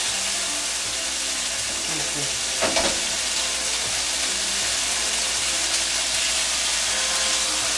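Pork strips fry in a pan over medium-high heat, a steady close sizzle with a brief louder crackle as the meat is moved, while a voice talks faintly underneath.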